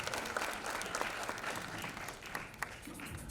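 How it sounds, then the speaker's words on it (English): Sustained audience applause at a launch event, dense even clapping from a crowd filling the whole stretch with a few sharper claps near the end. "Could we have a huge round of applause, ladies and gentlemen?"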